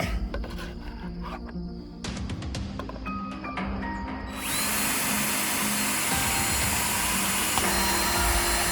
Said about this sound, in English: We're gonna drill a hole on the top of this.